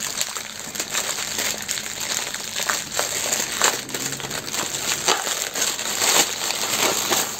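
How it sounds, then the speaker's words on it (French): A small AliExpress parcel is unwrapped, with plastic packaging crinkling and crushing in irregular bursts close by, no talking. "Donc on va déballer ça."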